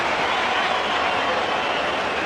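A capacity cricket crowd at the Wanderers stadium roars in a continuous, loud, dense wash of cheering with no break.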